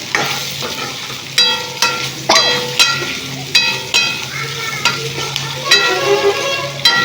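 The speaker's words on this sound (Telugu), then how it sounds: "చిటికెడు గరం మసాలా పౌడర్ వేసుకొని కలుపుకుందాం" Okra fry being stirred in a pan after coriander powder and a pinch of garam masala go in: a loud, close sizzle broken by repeated sharp metallic scrapes and clinks of the spoon, coming every second or so.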